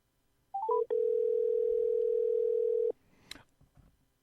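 An outgoing telephone call to a cell phone sounds a few rising tones, then a long steady ringback-style tone that cuts off abruptly, followed by faint line clicks and noise.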